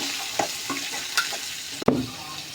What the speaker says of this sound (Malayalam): നമ്മുടെ അരിഞ്ഞിട്ടിരുന്ന സവോള, പച്ചമുളക്, കരിയാപ്പില ചെറുതായിട്ടൊന്ന് മൂത്ത് അതിലൂടെ ഇട്ട് വയ്ക്കുക